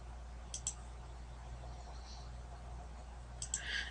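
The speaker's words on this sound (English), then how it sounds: "I'm clicking in the different corners here." Computer mouse clicking while drawing lines between corners in design software, a double click near the start and another quick pair near the end, faint and close over a steady low room hum.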